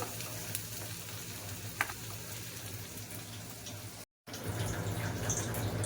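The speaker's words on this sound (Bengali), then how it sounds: "টমাটোটা দিয়ে আমি একটু নাড়ছি।" Tomato frying in a pan for kadai paneer, cooked with little oil, gives a steady close sizzle with occasional scraping stirs and a brief dropout near the end. No one speaks.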